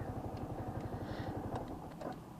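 Yamaha Xabre 150cc motorcycle engine running steadily with a fast, even pulsing thrum and faint clattering on top, fairly quiet and close throughout.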